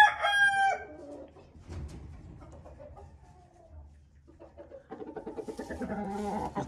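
A rooster crows loudly close by at the start, followed by quieter clucking and fowl calls, with another drawn-out crow toward the end.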